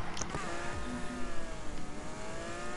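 A 2018 Lamborghini Huracan supercar engine revving in a racing video game, a sustained rising whine with tonal harmonics, moderately loud and steady.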